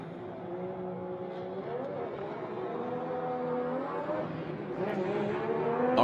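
Rotary engine of the GT Radial MX-5 drift car at a Formula Drift qualifying event in Irwindale, a buzzing high-revving note rising in pitch as it throws into a drift, heard from a distance.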